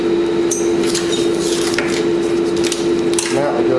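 A nut is being tightened on the front engine mount of a Polaris 325/330 Magnum ATV during an engine swap. Close ratcheting clicks and metallic taps come in short bursts over a steady background hum.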